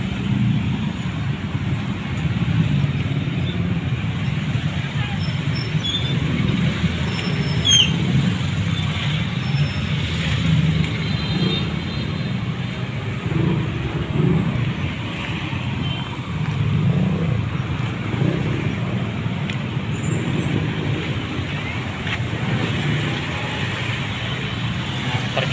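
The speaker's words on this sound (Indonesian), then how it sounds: "Jadi kepadatan lalu lintas di pertigaan" Steady road traffic rumbles at a busy three-way junction near the Bocimi toll exit (section 3) in West Sukabumi, Cibolang, a continuous close wash of cars, buses and trucks with no clear breaks.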